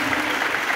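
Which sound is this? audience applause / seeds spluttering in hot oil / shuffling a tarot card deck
audience applause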